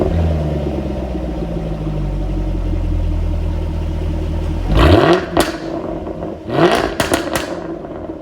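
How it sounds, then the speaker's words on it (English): A 2017 Jaguar F-type R idles with a steady low exhaust rumble, then blips its throttle in two sharp revving bursts with crackling tails. "You've got the exhaust sound"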